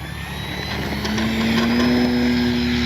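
An FMS Ranger 1800mm RC plane takes off with its takeoff flaps down, its motor whine rising steadily in pitch and getting louder over a few seconds against steady outdoor background noise.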